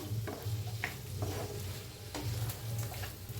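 Potato filling for Mysore dosa stirred in a pan, with scraping and soft sizzling in a quiet, close rhythm and no voices.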